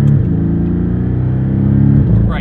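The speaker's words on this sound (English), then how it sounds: "a very deep growl. It's a much deeper sound than the previous generation 981 Boxster S." Porsche 718 Boxster S with a 2.5-litre turbocharged four-cylinder engine giving a deep, steady growl close by, holding a low rumble that swells slightly toward the end.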